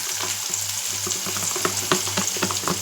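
Chopped small onions (shallots) fry in a pan for a mushroom gravy, a loud dense crackling sizzle with quick irregular spatters running throughout, close up, no voices.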